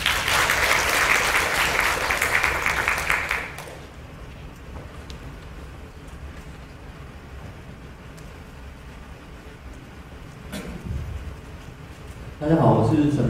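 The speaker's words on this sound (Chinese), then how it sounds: "请大家热烈掌声欢迎明凯。" A seminar audience at a youth working-holiday information session in Tainan claps loudly for a few seconds to welcome a speaker. Quieter room ambience follows, and a second burst of clapping comes near the end.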